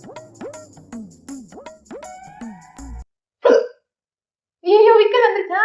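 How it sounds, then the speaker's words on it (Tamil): Repeated hiccups from a child who has been eating very spicy Jolo chips, a quick run of sharp gulping catches over about three seconds, followed by a brief burst of speech and then longer talk. "ஐயோ விக்கல் வந்துருச்சா?"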